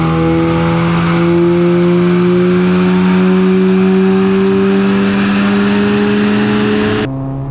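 An Audi S3 MQB with a stage one tune pulls flat out in gear on a dyno, its engine droning loud and steady as the pitch climbs slowly for about seven seconds, then cuts off abruptly.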